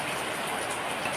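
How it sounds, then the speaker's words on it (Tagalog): Steady rain falling outdoors, a dense even hiss of drops that fills the short moment at a constant, fairly loud level with no voices. "Hindi yan pakinig gawa ng ulan."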